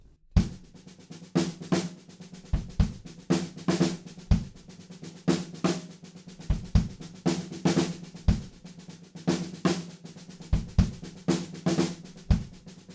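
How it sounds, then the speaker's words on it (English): A snare drum fill on a drum kit from a song: rapid, close snare strokes with regular accents, set against deep kick hits and cymbal wash. It plays alone with no talking. "we're doing another snare drum fill."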